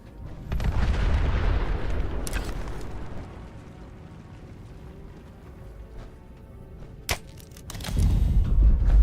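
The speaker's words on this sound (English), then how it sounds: "I'm detonating the bombs." Bombs detonating in Fallout 76 to seal tunnels: a heavy, rumbling low boom rolls on for several seconds, followed by a sharp crack near seven seconds and a second deep blast surging in at the end.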